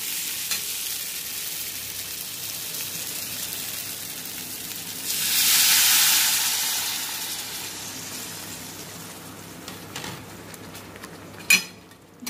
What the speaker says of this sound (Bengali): তিন মিনিট চালটাকে কষানোর পর মশলার সঙ্গে আমি এর মধ্যে জল দিয়ে দেব।